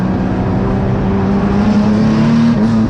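A Nissan 180SX sports sedan race car engine droning loud and close at Winton raceway, a steady sustained pull with the pitch climbing slightly as it accelerates, no voices.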